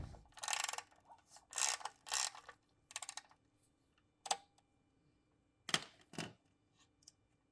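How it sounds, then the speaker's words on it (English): A 3/8 ratchet loosening the screw-in plug at the bottom of the oil filter housing on a 2018 Toyota Highlander: bursts of rapid clicking pawl strokes, close and crisp, separated by short quiet pauses. "take a 3/8 ratchet and attach it to the bottom of the oil filter housing and remove the screw-in plug"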